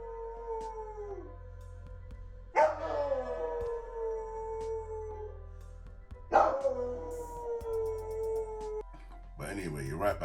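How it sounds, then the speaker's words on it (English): A dog howls and yowls in long wavering notes, singing along to piano chords, the howls rising in several bursts over sustained keys, with a voice briefly audible near the end. "a dog that really loves to play the piano and sing"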